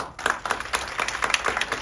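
An audience claps its hands at a community dialogue event, a quick burst of many sharp, overlapping claps that carries on for a couple of seconds.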